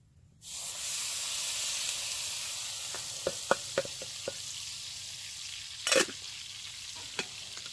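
Food sizzles steadily in a pan over a campfire while bushcraft cooking outdoors, a continuous close hiss with a few sharp clicks and clinks of a utensil against the pan.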